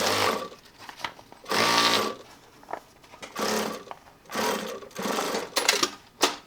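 A sewing machine stitching a fabric tech kit runs in short, loud bursts separated by brief pauses, its rapid mechanical whir repeating until the bobbin thread runs out.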